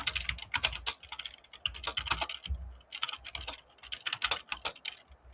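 Code is typed on a computer keyboard in quick, uneven bursts of crisp key clicks separated by short pauses, close and clear with no talking.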